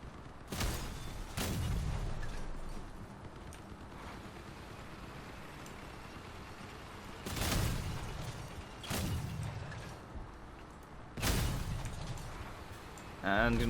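Weapon shots in the vehicle combat game Crossout, fired from a truck build over its own cab: a few heavy, spaced booms rising out of a steady rumbling engine and battle bed, with someone talking over the action.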